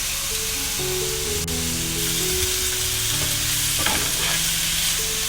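Spring roll vegetable stuffing with soy sauce and green chili sauce stir-fries in a pan, a steady loud sizzle running throughout with scraping stir strokes and a sharp clatter near the end, no talking.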